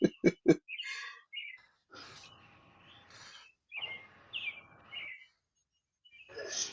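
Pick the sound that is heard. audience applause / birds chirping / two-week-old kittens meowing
birds chirping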